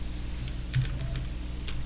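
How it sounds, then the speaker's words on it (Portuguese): Typing on a computer keyboard to enter a setup command in Linux CentOS, a few scattered close key taps over a low steady hum. "eu vou digitar o seguinte comando, setup"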